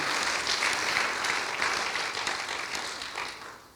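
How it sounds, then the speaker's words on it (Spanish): A church congregation at a Spanish-language sermon applauds in praise, a thick, even roar of many clapping hands that slowly fades toward the end, with no talk. "Dale un aplauso al Señor."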